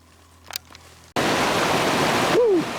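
The Yuba River in California rushes in a loud, dense broadband roar that cuts in abruptly after a quiet start with a couple of faint sounds, and a short sliding whistle-like tone rises over the flow near the end.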